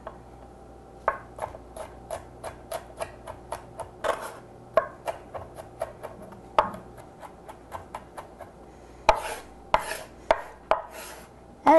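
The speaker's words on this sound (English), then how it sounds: "What I'm going to do is I'm just going to give this a nice chop, get it diced up pretty fair." A knife chops and dices garlic on a cutting board in a quick, steady run of crisp, close taps, with a few louder strikes toward the end and no talking.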